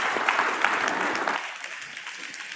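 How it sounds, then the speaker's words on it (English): Audience applause in a conference hall at an international financial conference on capital markets: a burst of steady clapping from a sizable crowd that fades toward the end, heard close and fairly loud. "You were brilliant and you deserve a very strong round of applause."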